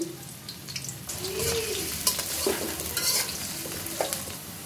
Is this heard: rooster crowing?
no